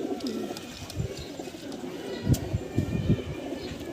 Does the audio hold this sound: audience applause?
no